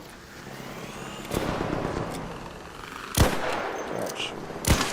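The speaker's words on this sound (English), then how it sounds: "I'm hearing a lot of gunfire" Gunfire in the video game Arc Raiders, several sharp shots cracking out against steady background noise, fairly distant and spaced a second or two apart.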